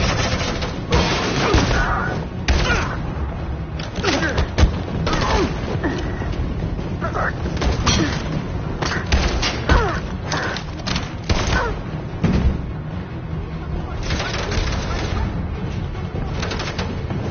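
Rapid bursts of video game gunfire in Detroit: Become Human crackle almost without pause during a tense firefight, loud and dense, with shouting voices mixed in.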